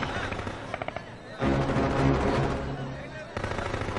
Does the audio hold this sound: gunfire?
yes